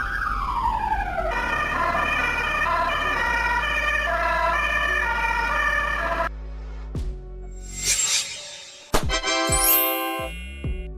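A Belgian ambulance siren wails loud and close in a repeating two-tone pattern, then cuts off and gives way to scattered road noise and a few brief tonal bursts.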